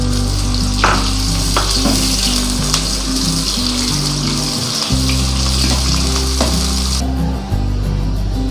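Chopped onions fry in a hot pan for qeema shimla mirch, giving a loud, steady sizzle with occasional crackles and stirring clatter, heard up close without talk.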